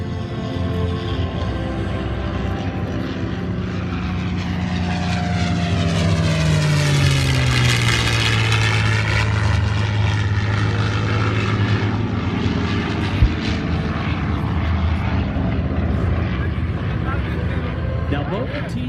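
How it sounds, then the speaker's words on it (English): T-6 and T-28 warbird propeller planes flying at the Miramar airshow, a loud radial-engine drone that swells as they pass close overhead, with a falling pitch sweep, while an announcer talks over the sound. "Now both the T-6 and the T-28 that we see before us were actually used in combat."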